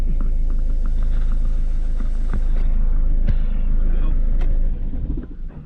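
A Ford Focus MK2 1.6 TDCi diesel engine with a newly replaced turbo idles close by with a steady low rumble, then shuts off near the end as the noise falls away.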